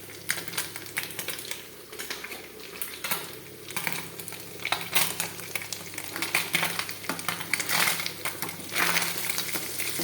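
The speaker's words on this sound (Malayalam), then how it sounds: "ഈ നത്തോലി മീനൊക്കെ വറുക്കാനായിട്ടൊക്കെ ഉള്ളതുണ്ട്." Anchovies frying in a pan, a close crackling sizzle full of rapid irregular pops and spits that swells and fades over the whole stretch, with no voices.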